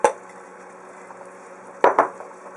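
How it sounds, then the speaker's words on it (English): Chopped celery dropped into a simmering pot of chicken noodle soup lands with a couple of quick, close splashy clatters near the end, after a light knock at the start over a quiet, steady kitchen background. "Let's go ahead and throw in celery"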